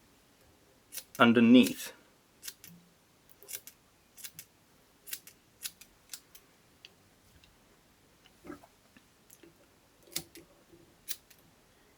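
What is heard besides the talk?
scissors trimming fly-tying material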